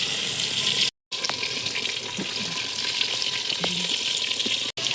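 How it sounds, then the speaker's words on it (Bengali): Potatoes fry in hot oil in a pot for handi chicken, giving a loud, continuous sizzle close by that drops out briefly twice. "ভালো করে ভাজা হচ্ছে আলুগুলো"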